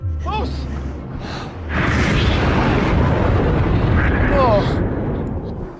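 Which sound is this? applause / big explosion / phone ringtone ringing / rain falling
big explosion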